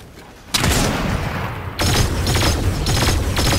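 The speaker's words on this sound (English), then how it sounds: "Right as I said that, they started shooting someone behind." Dense, loud video-game gunfire bursts in after a quiet start, with rapid overlapping shots and a second heavy volley joining partway through, sustained to the end.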